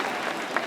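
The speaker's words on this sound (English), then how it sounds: "I didn't mean to interrupt the applause." Audience applause at a talk on gender stereotypes, a brief burst of dense, even clapping that fills the short moment.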